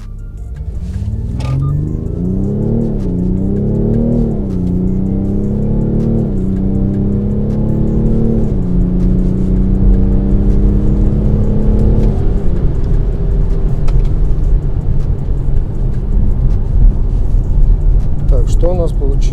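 A BMW X5 M50d F15 diesel SUV accelerates hard from a launch-control start, its loud, close engine note climbing and dropping through several gear shifts before settling into a steady roar.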